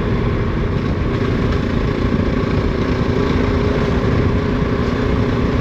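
A Kove 450 Rally motorcycle engine drones loud and steady while the bike is ridden, a continuous buzzing roar with wind rush, close to the mic and without speech.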